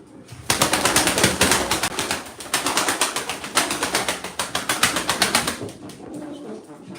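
Pigeons for sale, including a crested male, clap and flutter their wings in loud bursts, with soft cooing between the flurries. The flapping comes in repeated rapid runs close by, then eases off near the end.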